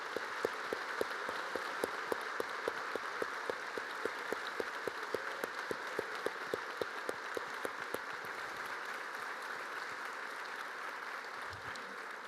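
An audience applauds military veterans at a defense talk by General Mark Milley, steady applause with sharp rhythmic claps standing out, some of them in unison, for about eight seconds before settling into a softer, continuing wash of clapping.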